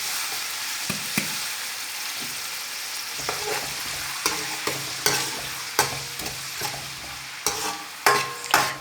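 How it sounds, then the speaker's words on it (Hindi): Onions sizzle steadily in a hot pan while a spoon stirs and scrapes at intervals, close and clear, with no talking. "प्याज को फ्राई होने के लिए छोड़ देते हैं"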